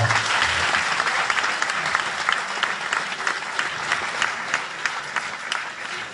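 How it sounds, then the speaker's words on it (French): An audience at an awards evening gives sustained, loud applause lasting about six seconds, a dense wash of many hands clapping with no talk over it. "Donc on peut applaudir très fort Alexandra"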